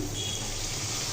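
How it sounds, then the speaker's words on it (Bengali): Water pours into a pan of dried loitta fish curry, a brief, close, steady gushing rush. "এখন দিব পানি"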